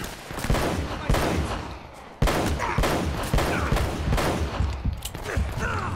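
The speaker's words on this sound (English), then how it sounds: "That gun is horrible!" Gunfire rattles in the video game Uncharted, dense rapid shots and bursts in close succession filling the scene at loud volume.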